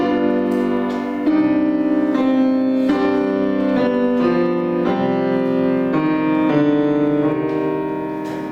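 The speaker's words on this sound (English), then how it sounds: "that's why we can get nice sounding progressions that sound like this" A sequence of sustained chords played one after another on a keyboard, changing about every second, steady and clear with no voices.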